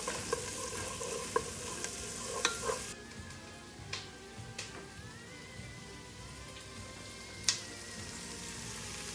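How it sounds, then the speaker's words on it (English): Onions fry and brown in a pan for a ratatouille, giving a steady close sizzle with scattered pops and crackles and occasional clinks of a utensil stirring. "All right, the onions are browning."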